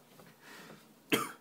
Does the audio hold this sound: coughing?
yes